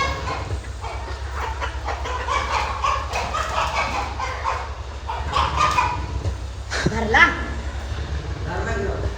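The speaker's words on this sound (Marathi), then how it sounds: "या कोंबड्या इकडे पळून आले ना" Chickens cluck and squawk amid a busy outdoor scene, with people talking over steady low background noise throughout.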